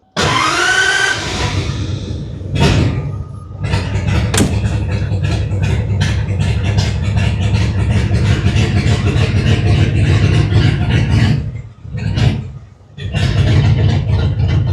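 A turbocharged 1950 Ford engine runs loud and close in a steady drone, easing briefly twice near the end before picking back up.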